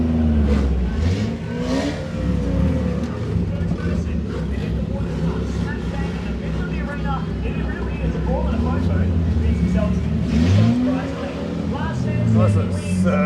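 Race car on a parade lap at a motorsport event, a steady droning engine close up from inside the car, rising and falling in pitch as it shifts, with a voice talking over it.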